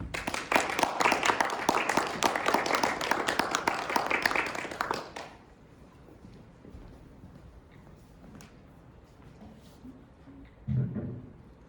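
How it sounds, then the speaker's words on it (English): An audience at a Brandeis University talk on God's existence applauds a speaker onto the stage, a dense, full round of clapping for about five seconds that then cuts off into a quiet hall with scattered small noises and a soft thump near the end. "in your applause, I will welcome Abdullah Najjar"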